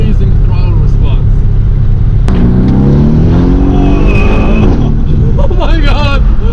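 A twin-turbo engine in a 2018 Mercedes-AMG C 63 builds steadily in pitch as the car accelerates hard, heard from inside over constant road and engine rumble, with an excited voice exclaiming partway through.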